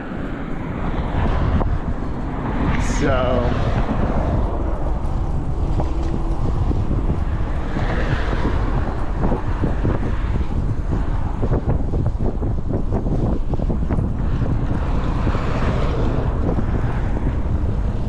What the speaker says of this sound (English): what was just blowing on that crossing are the Santa Ana winds